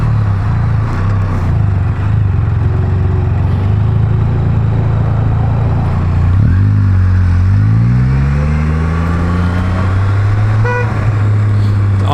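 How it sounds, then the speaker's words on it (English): Horn on a Can-Am Spyder F3 S three-wheeled motorcycle honking once near the close, over the steady loud drone of the engine as the bike revs and rides along. "I've hit the horn thinking it was the shifter."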